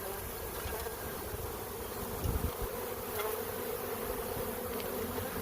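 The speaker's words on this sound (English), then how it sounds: "A lot of bees." A swarm of bees freshly shaken into a box, filling the space with a dense, steady buzz close by, broken by a brief low thump partway through.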